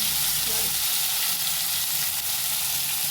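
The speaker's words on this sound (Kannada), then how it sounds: "ಇವಾಗ ಮೀನು ಫ್ರೈ ಮಾಡ್ತಾ ಇದ್ದಾರೆ." Fish frying in a small amount of oil for a green masala fish fry, a steady broadband sizzle running loud and unbroken throughout with no voices.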